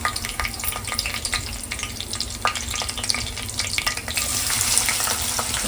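Curry leaves hitting hot oil in a home kitchen pan for a Marathi-style tempering give a steady, close crackling sizzle with scattered sharp pops, growing a little brighter and denser toward the end, with no talking.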